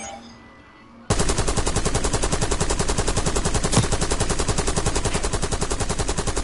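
Automatic weapon fire in the video game Call of Duty Black Ops 6: after a second of quiet, a loud, unbroken stream of rapid, evenly spaced shots runs to the end.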